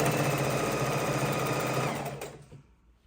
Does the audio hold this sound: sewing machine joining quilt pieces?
yes